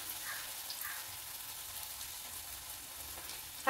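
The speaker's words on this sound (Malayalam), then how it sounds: "എണ്ണ ചൂടായിട്ടുണ്ടേ. ഇത് കണ്ടോ, ഇതുപോലെ കുറച്ചെടുത്ത് പരത്തി അങ്ങോട്ട് ഇട്ട് കൊടുക്കാം." Flattened dough fries in hot oil, giving a steady, soft sizzle and crackle at moderate level that ends in a brief louder clatter.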